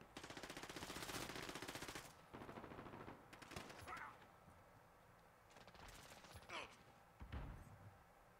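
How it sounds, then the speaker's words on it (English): Rapid automatic gunfire from a Call of Duty Modern Warfare multiplayer match on the Shipment or Vacant map, loud sustained bursts for two seconds, then shorter volleys and scattered single shots, with speech audible. "Where'd these shots come from?"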